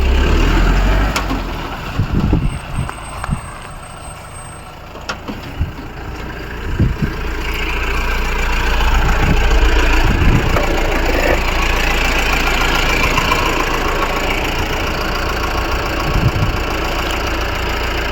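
A vehicle engine idles at the roadside after pulling over, a steady mid-pitched chug running for the whole stretch, close and fairly loud, with scattered knocks and thumps over the top.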